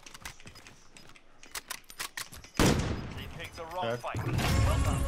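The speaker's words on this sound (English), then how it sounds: "Oh, I'm getting shot at." Gunfire in the Call of Duty Warzone video game, with rapid bursts of shots that get loud and dense in the second half, and a player's voice talking over the clip.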